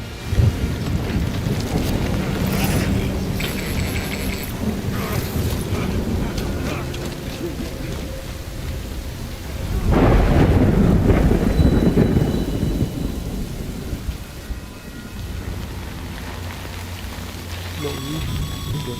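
Heavy rain and rumbling thunder from a storm in the video game Death Stranding, a steady loud downpour throughout with a deep thunder swell midway, some faint voice underneath.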